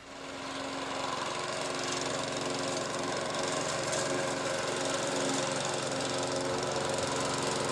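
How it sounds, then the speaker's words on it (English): A power lawn mower engine runs steadily and loudly close by, a dense continuous roar that swells in over the first second and holds without a break, with no voices. "The power mower made the work easier"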